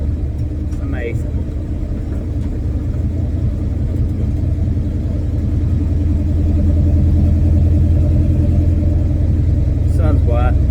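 A car cruising on a highway with its engine surging and bucking from a big cam, giving a steady low rumble that rises slightly toward the end, with faint talk over it.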